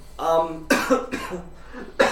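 A person coughs several times in quick succession, loud and close, with short breaths between the harsh bursts.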